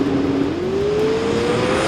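Drag racing car engine at a large nostalgia drag racing meet, a loud sustained drone whose pitch climbs steadily as the car accelerates, steady and close throughout.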